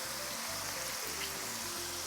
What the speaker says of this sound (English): we've got this beautiful, amazing, great sounding sizzling going on